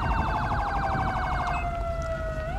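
A police car siren in the video game GTA 5 wails steadily through the whole stretch, a rapid yelp pattern shifting into a long sweeping wail, loud and close over constant low engine and traffic rumble.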